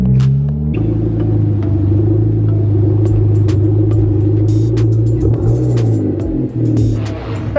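A Hyundai Genesis fitted with side skirts, lowered, with a wheel spinning, gives a steady loud engine rumble and drone with low throbbing tones that hold throughout, plus a few faint clicks and knocks, no talking.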